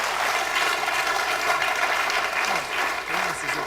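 An audience at a public meeting about Crowborough Army Camp breaks into loud, continuous clapping that stays steady throughout, with voices faintly audible underneath.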